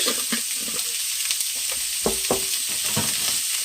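Garlic sautés in a pan for a spicy andouille sausage breakfast casserole, with a steady close sizzle and a few light stirring taps and scrapes.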